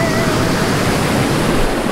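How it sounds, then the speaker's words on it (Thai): Steady broadband rush of the Pha Kluai Mai waterfall and its rocky forest stream at Khao Yai, a continuous close roar of falling and flowing water with no pauses and no voices. "เสียงน้ำตก"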